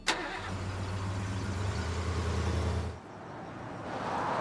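A car engine runs with a low, steady hum and droning tones, then abruptly drops off near the end, leaving quieter background noise as it winds down, with no talking.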